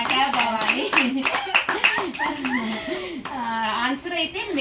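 Brief clapping for a correct riddle answer, heard under lively talking and some chuckling from a small group.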